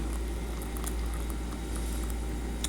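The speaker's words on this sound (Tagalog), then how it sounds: "Lalagyan natin siya ng mainit na tubig." Hot water poured onto cloves for clove tea, a steady close liquid rush with soft bubbling patter running evenly throughout, no voices.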